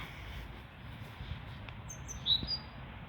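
A small bird sings faintly in a spring garden with blooming apple trees and daffodils, a couple of brief high chirps late on over a quiet, steady outdoor hum.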